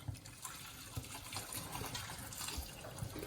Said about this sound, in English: And then pour your water on there.